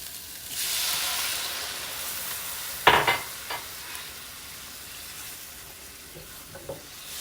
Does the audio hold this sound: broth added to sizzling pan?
yes